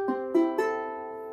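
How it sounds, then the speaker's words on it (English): A freshly tuned ukulele rings out with three plucked strums close up, each leaving sustained bright harmonics that fade slowly into quiet. "once you've tuned your ukulele, it should sound like this"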